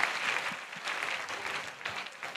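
A church congregation claps as an offering during a prayer service, a soft, fairly distant patter of many hands, steady and brief.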